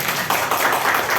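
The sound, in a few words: applause, audience clapping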